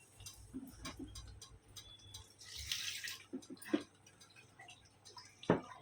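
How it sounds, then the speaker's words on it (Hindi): About one cup of water splashes briefly into a pot of dal amid scattered clinks and drips, a short pour in a quiet kitchen. "हम खाली 1 कप पानी लगाएंगे।"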